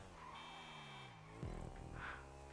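A car horn sounds inside the GTA V racing game during Cunning Stunts play, a steady buzzy electronic tone that holds for over two seconds and swells briefly midway, with no talking over it.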